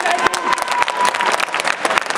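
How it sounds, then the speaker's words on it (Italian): A crowd at an Italian dance-battle final breaks into steady, dense applause, continuous clapping with a few sharper claps standing out and faint voices beneath. "Un applauso ai tesi!"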